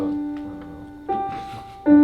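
Sustained musical notes ring out one after another, a fresh note entering midway and another near the end, clear and close with no talking.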